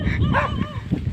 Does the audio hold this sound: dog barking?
yes